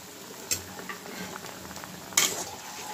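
Fish pieces go into a simmering fish curry in a pot, making two soft splashy clatters over a low, steady bubbling, with no voices.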